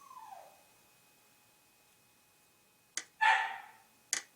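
A dog at a door gives a short whine, then after a quiet pause lets out a couple of sharp, fairly loud barks with a brief yelp between them, heard alone in a quiet room.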